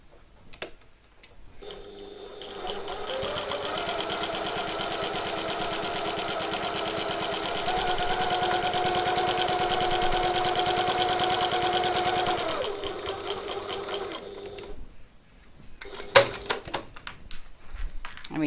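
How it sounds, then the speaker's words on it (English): A sewing machine top-stitches the lining layer of a piped pocket tote bag, running in a steady fast whirring hum for about ten seconds, then slowing and stopping, followed by a few handling clicks. "And then we'll top stitch on that lining top layer."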